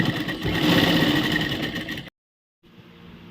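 A sewing machine runs loud and steady for about two seconds while stitching around the edges of a tray cloth, stops abruptly, then restarts more softly after a short silence.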